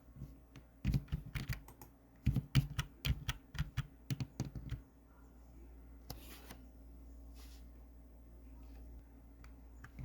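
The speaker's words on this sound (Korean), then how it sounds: "컨트롤 Z 눌러서 명령 취소." Computer keyboard typing with a quick run of close, crisp key presses, including a Ctrl+Z undo, followed by quiet room hum and a couple of faint clicks; no talking.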